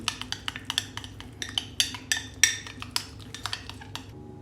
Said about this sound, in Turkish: Sosu iyice karıştırın ki iyice birbiriyle harmanlansın.